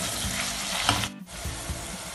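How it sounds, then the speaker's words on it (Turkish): Tomato paste sautéing in a hot pan, a continuous close sizzle with stirring scrapes and a brief dip in the middle. "1 yemek kaşığı domates salçamı da içerisine ilave ediyorum ve onunla da kavurmaya devam ediyorum."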